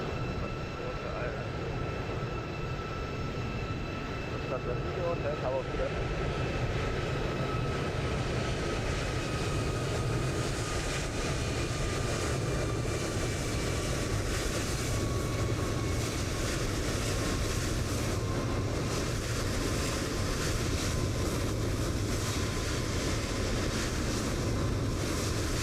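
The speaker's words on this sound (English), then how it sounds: "Lovely touchdown." An airliner touching down and rolling out at Frankfurt in Microsoft Flight Simulator 2020, with a dense, continuous roar and a slowly falling whine that holds steady over the whole stretch, loud and alone.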